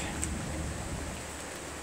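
Rain falls steadily around a traveller's tree, a continuous close hiss with no other clear sounds.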